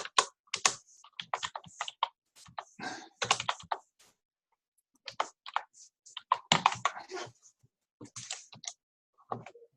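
Keys tapped on a computer keyboard in several quick bursts of clicks, with a pause in the middle, fairly close and clear with no talking.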